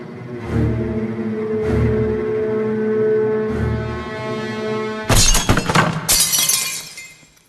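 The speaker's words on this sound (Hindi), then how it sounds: "शायद कोई कांच टूटा है" Glass shatters in a horror movie scene: after a low, swelling musical drone with rhythmic thuds, a loud crash of breaking glass erupts, followed by a second burst of tinkling shards that fades out.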